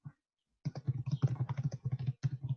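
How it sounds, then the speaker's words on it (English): Typing on a computer keyboard during an online webinar, a steady, fairly close patter of rapid key clicks running for a couple of seconds after a brief lone tap and a pause, with no voices. "I hear typing."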